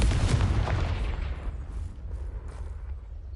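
A Confringo spell exploding in the video game Hogwarts Legacy, a deep booming blast that rumbles loudly at first and then fades into a low, decaying roar.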